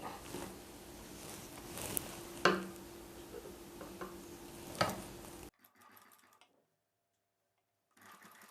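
A sewing machine stitches a boat neck blouse piece with a fast, steady mechanical patter for about five seconds before stopping, then a faint brief rattle follows near the end.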